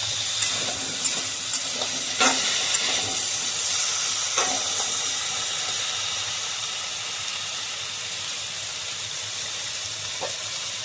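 Potatoes frying in oil until reddish-brown for a Bengali fish curry; a steady sizzle and hiss with a few sharp crackles and stirring knocks early on, close and alone.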